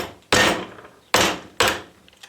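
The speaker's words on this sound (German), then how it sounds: "Den setzt ihr so an und dann mit dem Hammerschlag." A hammer strikes a hook wrench to loosen the steering gear nut on a Porsche 911 G, three sharp, close metallic blows with short pauses between them and no talk.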